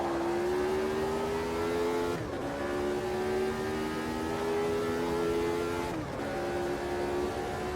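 A 1983 Formula 1 car engine screams at the Austrian Grand Prix during qualifying, close and loud with a steady high whine. The pitch dips and climbs again at two gear changes.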